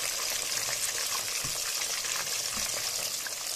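Jilebi fish frying in hot oil for a Mettur dam style fish fry, a steady dense sizzle and crackle throughout with a few soft low bumps, close and continuous with no talking.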